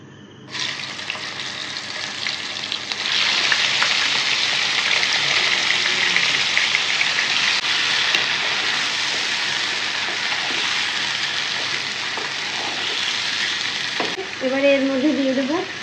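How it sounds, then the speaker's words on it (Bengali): Chicken pieces dropped into a pan of fried potatoes set off a loud, sustained hiss of frying that holds steady and then cuts off abruptly near the end. "প্রথমে চিকেনের টুকরাগুলো দিয়ে দিচ্ছি।"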